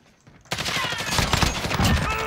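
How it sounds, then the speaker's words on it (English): An assault rifle is hip fired in Call of Duty Modern Warfare (2019), heard as an abrupt, loud, continuous burst of rapid gunfire that begins after a brief quiet lead-in and then keeps going. "I'm hip firing him."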